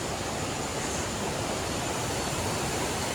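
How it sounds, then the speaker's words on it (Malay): The Putsago river on a hike up Mount Peut Sago rushes as a loud, steady, unbroken roar of flowing water, close by and alone. "Sungai apa ini namanya"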